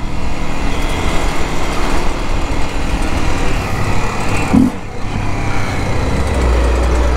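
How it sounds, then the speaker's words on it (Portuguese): A vehicle engine with an unfiltered, loud exhaust drones steadily and close by near a school exit, holding a harsh, constant roar with one brief dip partway through. "Aí esse escape como berra"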